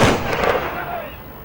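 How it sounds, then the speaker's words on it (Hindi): A military gun salute at a soldier's funeral: a single sharp, loud rifle report opens, then rings out and decays in the open air. "सेना के साथ ही बंदूकों से बहादुरी को सलामी दे रहे हैं"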